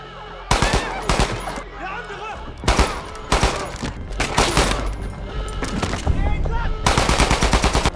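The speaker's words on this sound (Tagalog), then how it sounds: "puno ng putukan ang buong party" Gunfire rips through a party shootout in a dramatized scene, with repeated loud bursts of rapid, machine-gun-like shots separated by short gaps and some voices mixed in.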